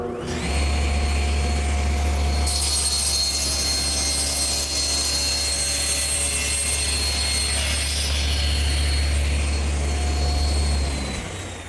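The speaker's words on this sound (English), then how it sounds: "to do that, I'm going to use my homemade panel cutter, which simply rides in the miter gauge slot." A table saw fitted with a homemade panel cutter riding in the miter gauge slot squares the edge of a wood panel, producing a loud, steady motor roar with a high whine that holds for about eleven seconds.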